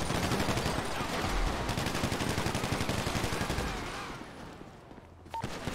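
Rapid gunfire in a GTA roleplay game, with dense overlapping shots and automatic bursts, loud and sustained before thinning out near the end.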